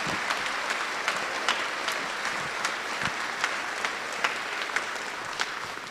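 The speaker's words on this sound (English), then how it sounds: "Let's give them a big round of applause as well." An audience applauds at a school holiday concert, many hands clapping steadily with sharper individual claps standing out, a close, sustained ovation with no talk.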